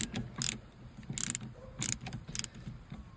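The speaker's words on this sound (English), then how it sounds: "It's a T10 bit ratcheting screwdriver. Back these out here." A T10 bit ratcheting screwdriver backs screws out of an S10 sun visor, giving repeated bursts of crisp ratchet clicks in short, irregular runs, close and fairly quiet with no talking.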